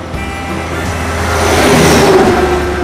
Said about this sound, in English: The bus is going.